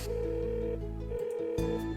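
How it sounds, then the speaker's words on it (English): Telephone ringing tone during a call, a steady electronic tonal buzz that repeats with brief breaks, loud and close. "It's ringing, yes, but it doesn't seem like he's going to pick up."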